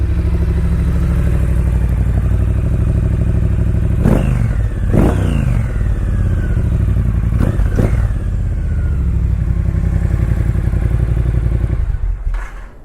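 A Triumph Bobber motorcycle with Vance and Hines exhaust pipes fires up and settles into a loud, steady idle, with several sharp throttle blips around the middle and the engine cutting off at the end.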